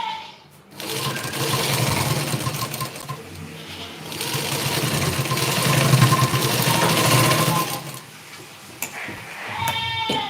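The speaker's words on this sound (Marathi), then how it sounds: "अशी टीप मारून घेतली आपण" Sewing machine stitching a blouse neckline runs in steady rapid bursts, close and continuous, pausing briefly near the start and again near the end.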